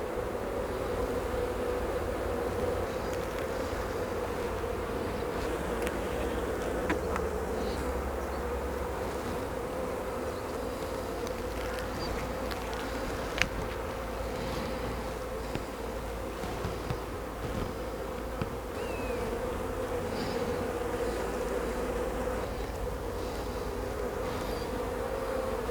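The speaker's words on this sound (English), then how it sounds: "Ooh, a wasp." A wasp buzzes close to a beehive, its droning hum running steadily throughout over a dense background of bee activity, with no talking.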